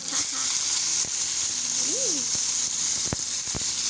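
Onion and garlic sizzle in a pan with a steady, bright hiss, broken by a few sharp pops and clicks, close by, with no voices.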